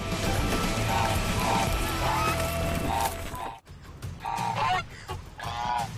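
Geese honking repeatedly and loudly at close range, a series of harsh calls with a brief scuffling break midway.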